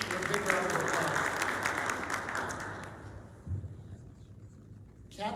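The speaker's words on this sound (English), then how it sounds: "So a big round of applause." An audience at a membership gathering applauds in loud, dense clapping that fades away after about three seconds, followed by quiet room sound and a brief thump.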